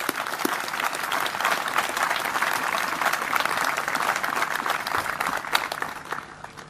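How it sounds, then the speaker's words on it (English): Applause from the audience at a 2019 U.S. Africa Command military change of command ceremony, sustained dense clapping held for several seconds and then tapering off at the end. "I think we should all just give them a very big round of applause."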